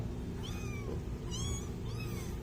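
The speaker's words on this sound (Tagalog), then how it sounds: "Sinusundan ako ng mga kuting na to" Kittens meowing, three thin high-pitched mews spaced out over steady background noise, fairly close, with no talk.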